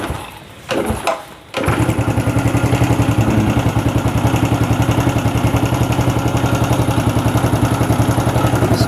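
Honda Vega ZR motorcycle engine, suffering lost compression from a jumped cam chain, catching after a kick start and settling into a loud, close, steady idle with a rhythmic ticking clatter.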